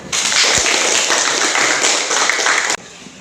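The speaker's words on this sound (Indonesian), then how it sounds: "Ya, tepuk tangan." A classroom of students claps hands in applause, a steady dense patter of clapping held evenly for nearly three seconds before stopping abruptly.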